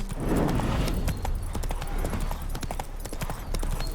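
A horse's hooves clip-clop at a steady walking rhythm in The Witcher 3 video game, with sharp, close, regularly spaced hoof strikes over a low rumbling game background.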